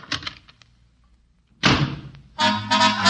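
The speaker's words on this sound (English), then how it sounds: "he bangs the door and leaves" A door bangs shut with a sudden loud thump, followed by a burst of sharp, bright noise, amid a few faint knocks and rustles beforehand.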